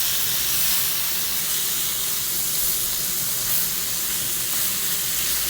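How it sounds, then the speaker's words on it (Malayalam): Fish fries in an iron pan, producing a loud, steady, hissing sizzle that stays even throughout, with no voices. "ഈ ഇരുമ്പിൻ്റെ ചട്ടീൻ്റെ മയത്ത് തന്നെ നല്ല മീൻ നെരിഞ്ഞാണ്ട് വരും"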